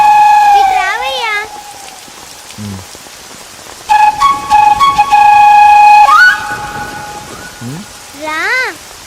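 Rain falls as a continuous hiss of drops, with whistling musical tones and sweeps laid over it and a voice now and then.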